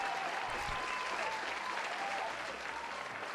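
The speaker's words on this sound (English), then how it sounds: "That deserves applause." A canned applause sound effect played on a live chatting stream, a dense, even wash of crowd clapping and faint cheering held at constant level for a few seconds.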